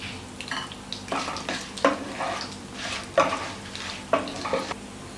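Dried red chillies and chana dal fry in oil in a pan, a close sizzle marked by several bursts of stirring and scraping at irregular intervals, with no one speaking.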